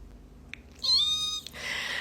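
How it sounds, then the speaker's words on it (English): A cat gives a single drawn-out meow, close and clear against a quiet room, preceded by a couple of small taps and followed by a soft rustle. "Look, my mom's cat is here."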